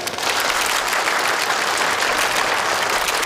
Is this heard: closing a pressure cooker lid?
no